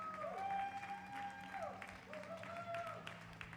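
An audience applauds at the prize giving after the Northern Open 2024 tournament finals in Manchester. The clapping is moderate and fairly distant, running beneath someone talking.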